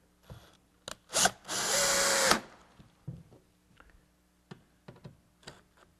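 A power drill whirs in a short burst, then runs steadily for about a second driving screws into a melamine drawer box before stopping, surrounded by scattered clicks and taps.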